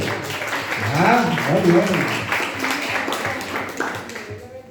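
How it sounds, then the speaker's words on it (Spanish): A small group at a Bible workshop claps for a teacher, a brief burst of close clapping mixed with a speaking voice that fades out toward the end. "Un aplauso a la profe."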